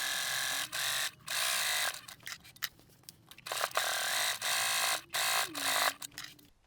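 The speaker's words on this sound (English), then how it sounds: "I'm then going to top stitch along each long edge, a couple of millimetres from each edge" A sewing machine top stitches along a fabric edge for a tote bag, running in short fast whirring bursts with brief pauses between them, close and steady with a faint hum underneath.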